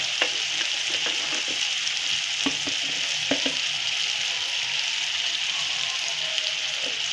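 Chili powder and onion-garlic masala roast in a pan with a continuous crackling sizzle, punctuated by the dull scrapes and taps of a stirring spoon.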